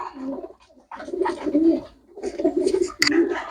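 Pigeons for sale coo in several rounds of soft, throaty calls, loud and close, with short pauses between bursts and a brief sharp click near the end.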